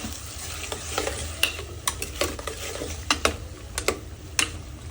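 Curry sauce ingredients for Japanese curry being stir-fried in a pan, with steady sizzling and repeated scraping strokes of a utensil, close and moderately loud, with no talking.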